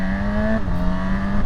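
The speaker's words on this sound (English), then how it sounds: "Engine sounds" A 2025 Honda CB1000 Hornet motorcycle engine revs up briefly and loudly, holding a steady tone that shifts pitch once midway through the short burst.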